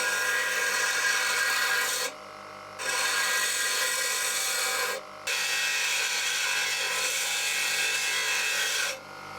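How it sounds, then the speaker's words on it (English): A high-speed grinding tool shapes metal on an IBM Model M keyboard part, a loud, steady rasping whine running in three long passes with two brief pauses between them, close up and without speech. "I'm trying to grind this a bit smaller."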